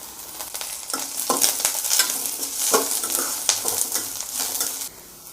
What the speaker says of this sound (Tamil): இப்போ வந்து கொஞ்சமாக கருவேப்பிலை போட்டுக்கலாங்க.